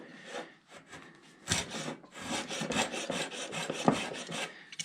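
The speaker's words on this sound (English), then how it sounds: "I'm just going to sand it." Sandpaper rasping back and forth over the wooden neck of a Big Baby Taylor acoustic guitar, in steady repeated close strokes with no talking.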